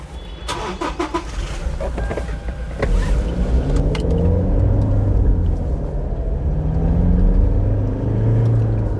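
A Toyota Fortuner diesel 4x4 with a manual gearbox starts with a few sharp clunks, then drives off with a deep, steady engine rumble that rises and falls through gear changes, close and loud, without talk.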